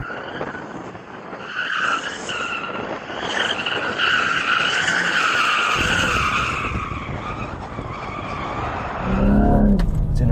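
An Audi RS5 doing donuts, its tyres skidding and squealing continuously against loud engine noise, with a heavier rumble near the end.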